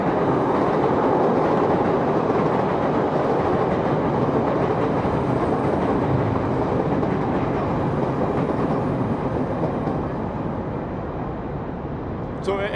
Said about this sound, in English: the train goes by.